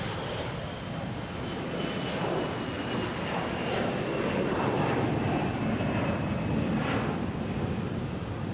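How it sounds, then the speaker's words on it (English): An American Airlines Airbus A321 bound for Miami passes at Boston Logan with a steady, moderately loud jet roar, a thin engine whine riding over the rumble throughout. "That was American Airlines heading to Miami, A321, flight 873"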